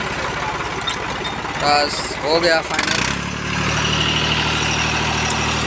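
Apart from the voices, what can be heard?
Escort 335 tractor engine idling after starting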